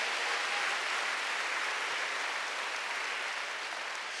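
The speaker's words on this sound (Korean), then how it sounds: "여러분도 깨달았으면 박수 한번 세게 쳐보세요" A church congregation at a Wednesday service claps hard in unison, a thick, continuous roar of applause that holds steady for several seconds and fades only slightly at the end.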